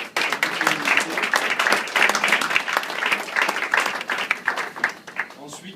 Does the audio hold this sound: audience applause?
yes